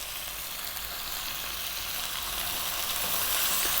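Ground turmeric, cumin, chili powder and coriander fry in a pan for a tofu curry, giving a steady, even sizzle that holds throughout at moderate level with no voices.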